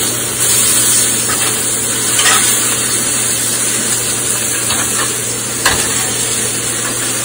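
Ribeye steak searing in a very hot cast iron pan, a steady loud sizzle and crackle running the whole way through with a few sharper pops, no voices.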